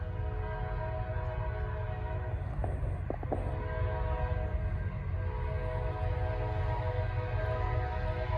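Norfolk Southern train P09 approaches on the Charlotte District, its horn sounding in long sustained blasts over a constant loud rumble of locomotive and rail cars.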